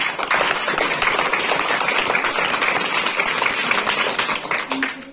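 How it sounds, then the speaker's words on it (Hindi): An audience at a National Sports Day event in Baramulla, Kashmir breaks into sustained clapping, a dense, even wash of hand claps holding steady and loud before tapering at the end. "तो इस बात पे ताली बजती है।"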